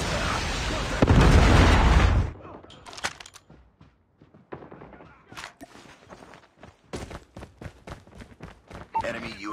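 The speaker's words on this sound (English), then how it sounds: "Friendly predator missile." A predator missile strike in the Call of Duty Mobile domination mode lands as one loud, dense blast lasting about two seconds. Scattered in-game footsteps, thuds and small pops follow, sitting near and busy.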